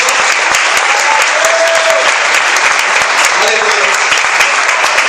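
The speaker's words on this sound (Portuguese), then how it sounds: "Vamos aplaudir o Senhor Jesus." A church congregation applauds loudly and continuously, dense clapping from many hands filling the room at a steady level for several seconds.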